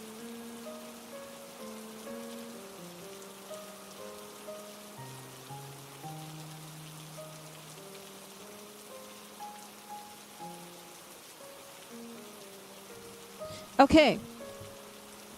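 Steady rain patter runs under soft background music, with a brief spoken word and a sharp burst of noise near the end.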